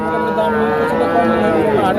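A Friesian heifer calf moos in one drawn-out, close call, with a faint murmur of a busy cattle market in Bangladesh behind it.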